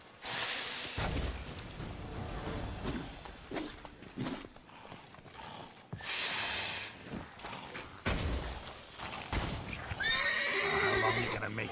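Roach, the horse from The Witcher 3 game, neighs and whinnies with clip-clopping hooves, several loud whinny bursts spread across the stretch over a busy game soundscape.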